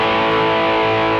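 A guitar played through a TC Electronic Nova Drive distortion pedal holds one steady, loud, saturated chord that rings evenly for about a second with no other sounds.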